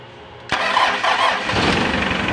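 A Mitsubishi 4D56 diesel engine, freshly fitted with a recalibrated injection pump, cranks with a sharp onset and catches, settling into a loud, steady running clatter close by.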